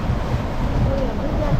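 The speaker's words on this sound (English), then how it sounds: "Guana Key, headed back to Hopetown under full sail." A sailboat runs under full sail on open sea off Guana Cay, with a steady rush of wind and water slapping the hull in a loud, continuous wash.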